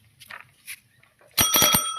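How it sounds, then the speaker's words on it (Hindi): A bicycle bell rings in a quick burst of several bright, metallic trills, loud and close, after a few faint scattered sounds. "अरे घंटी है घंटी है"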